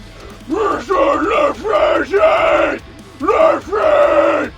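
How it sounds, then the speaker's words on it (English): One man performs metal-style low vocal screams, five or six harsh, growling bursts close to the mic with short breaths between them, loud and raw with no backing music. "now that I showed you how I scream, even though I didn't really show you anything, I just kind of screamed for you"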